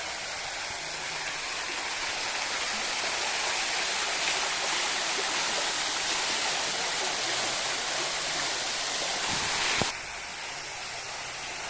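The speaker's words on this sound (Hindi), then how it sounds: "देखुन वाटरफॉल होइने अछि। इने बहुत सुंदर पानी पड़छि।" A waterfall pours in a steady, loud, close rush of falling water, unbroken for about ten seconds before the level drops abruptly and the softer flow continues. No one speaks.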